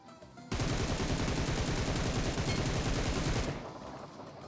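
Gunfire in the battle royale mobile game BGMI: a long, dense automatic burst of rapid rattling shots, loud and close, with no talking over it.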